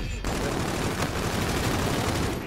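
Rapid, sustained automatic gunfire in the video game Call of Duty: Infinite Warfare on the Uplink mode map, a loud continuous burst of shots filling the whole moment without pause.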